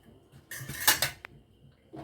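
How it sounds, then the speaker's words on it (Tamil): A pot is set down with a metallic clank, followed by a short rattle and the light clink of a ladle being lifted, close by. "பாத்திரம் வச்சாச்சு, கரண்டி எடுத்துக்கிட்டேன்."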